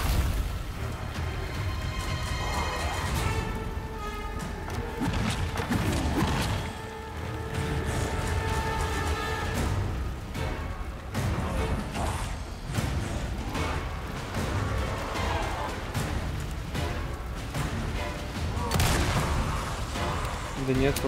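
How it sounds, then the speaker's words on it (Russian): Barrels blowing up in the Resident Evil 4 Remake video game, a dense run of booming blasts and gunfire-like bursts over continuous game music and noise, with someone talking over it throughout. "Может, я не в тот момент взрываю эти бочки"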